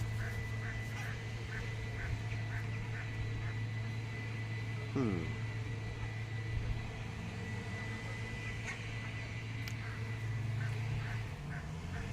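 A goose or cormorant calls once in a short honking burst, close, at a new fishing spot on open water, over a steady low hum and a repeated faint high ticking.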